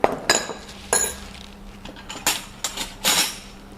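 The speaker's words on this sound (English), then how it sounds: "We're going to stir." A spoon clinks against a glass while stirring a Thai jasmine green tea latte made with creamer and sugar: several bright, irregular taps, close and fairly quiet, with no speech.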